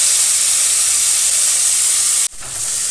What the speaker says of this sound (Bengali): তেল গরম হয়ে গেছে, চিংড়ি মাছ দিয়ে দেবো।